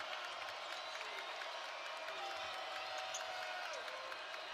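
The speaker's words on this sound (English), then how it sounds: "Crowd getting loud." A basketball arena crowd at a Nebraska vs BYU exhibition game keeps up a steady, distant roar of cheering and clapping, heard faintly throughout.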